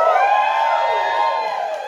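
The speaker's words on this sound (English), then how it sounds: "Give her a cheer" An audience cheers and whoops for the co-host at a swap shop event, a loud continuous burst of high voices that slowly fades, with no speech over it.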